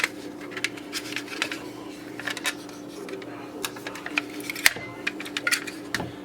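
A knife slices and dices boiled eggs for egg salad, giving irregular sharp clicks and taps against a board or bowl, with someone talking quietly in the background.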